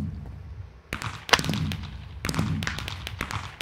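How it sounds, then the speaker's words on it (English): Fireworks bursting in a block-hunt video game, two clustered volleys of sharp cracks and thumps about a second apart over a steady background hum, fairly close and moderately loud. "That's how fireworks work, Britt."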